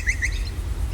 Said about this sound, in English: that bird you're listening to chortling away is a Grey Butcherbird